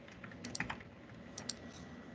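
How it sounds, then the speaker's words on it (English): Typing on a computer keyboard while entering Excel formulas: quiet, scattered key clicks in two small clusters, soft and close against a low room hiss. "I'm just typing straight across."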